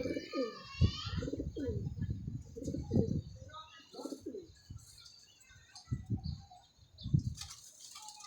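Rooftop pigeons coo in repeated low throaty bursts close by, with a few higher chirps and a brief flutter of wings, while someone talks intermittently.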